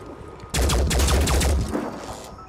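Sustained burst of automatic gunfire from a Phoenix Point combat sequence, loud and dense, starting abruptly and rattling on for over a second before tailing off, with no voices over it.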